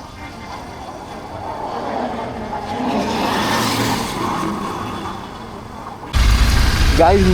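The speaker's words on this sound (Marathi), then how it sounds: "तुम्ही बघू शकता ॲज युजल आपल्याला इथे ट्रॅफिक भेटते." Busy road traffic at Milind Nagar: a steady wash of nearby car engines and rolling tyres swells and fades, then a louder vehicle passes close at the end.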